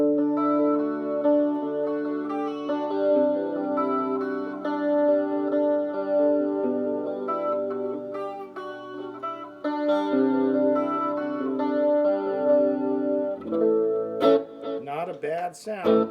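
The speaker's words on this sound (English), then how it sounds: "Little chorus" Electric guitar played through a Peavey Decade practice amp with chorus, delay and a little reverb, sustained chords ringing steadily and loud, ending with a brief flurry of bent or swept notes.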